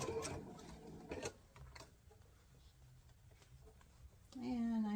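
A sewing machine runs a reinforcing pass along the half-inch seam of a fabric box, a steady close whir with light ticking, framed by a voice at the start and end.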